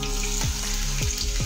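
Chopped onion sizzles in hot oil, a loud, close, unbroken frying hiss with brief bubbling swells.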